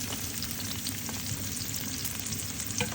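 Dried red chillies and a whole head of chopped garlic fry in hot oil in a pan, giving a steady, close sizzle with light scraping as they are stirred, no voices.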